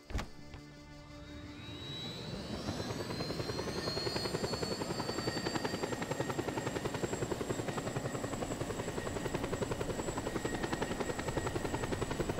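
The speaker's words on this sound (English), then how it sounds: "Just take a nice, leisurely flight in a chopper." A helicopter flies in Just Cause 2 with a loud, continuous rotor chop and engine whine. A rising turbine sweep builds over the first seconds, then settles into a steady rhythmic drone throughout.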